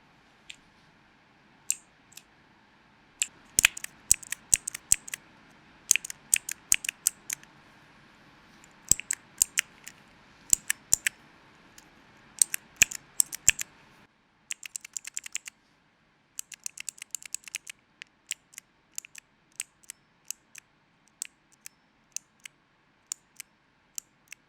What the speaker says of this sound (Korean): 그럼 한번 이 PJ 키보드의 소리를 들어볼까요?